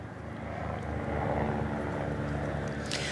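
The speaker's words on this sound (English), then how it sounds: "we can hear a helicopter over above" Helicopter flying overhead near a wildfire, a steady low rotor and engine drone with a broadband wash that holds loud and even throughout, no speech.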